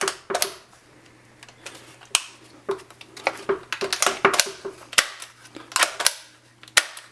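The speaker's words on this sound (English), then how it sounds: "Well, you can pull the trigger, but you notice it's actually not releasing the bolt." Sharp mechanical clicks and clacks from the bolt and trigger of an Umarex Beretta CX4 Storm air rifle, irregular and close, some snapping loudly, with brief pauses between actions.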